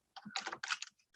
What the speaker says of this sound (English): I can move it about with the arrow keys on my keyboard.